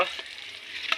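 Meat sizzles loudly in a hot wok with a steady frying hiss, and a utensil stirs through it.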